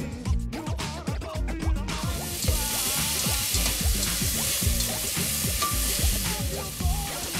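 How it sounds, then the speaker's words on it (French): Onions sizzling and frying in hot oil in a French stockpot for a homemade lasagne sauce, with steady crackling and a few stirring scrapes, loud and close with no talk. "Faites chauffer une cuillère à soupe d'huile dans un faitout et faites-y revenir les oignons."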